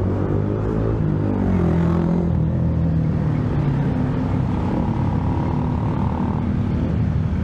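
Engine rumble of cars and motorcycles moving along a busy road, a steady loud drone with harmonic engine tones rising and falling throughout.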